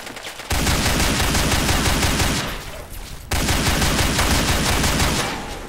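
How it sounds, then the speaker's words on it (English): Submachine gun fire in Fallout 3, two long sustained bursts of rapid automatic shots, loud and close, separated by a brief lull. "Submachine gun, go."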